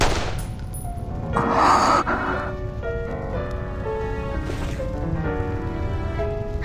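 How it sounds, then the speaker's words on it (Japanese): A gunshot in the video game Reverse: 1999 lands as a single broadband burst early on, set against sustained tonal game music. "銃声がしたわ。"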